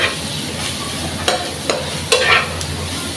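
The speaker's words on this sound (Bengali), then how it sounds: "মরিচ, ধনিয়ার গুঁড়ো দিয়ে একসাথে নাড়াচাড়া দিব।" Spices being stirred into dried fish in a hot pan, with chili and coriander powder: scraping spoon strokes and short clacks at irregular intervals over a low steady sizzle, close up and without talk.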